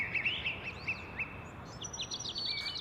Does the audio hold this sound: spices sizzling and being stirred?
no